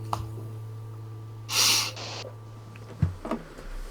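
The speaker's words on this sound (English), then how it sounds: "I heard a sniffle in there" A short, breathy sniffle through the nose bursts out mid-clip over a low steady hum, followed by a few faint clicks and rustles.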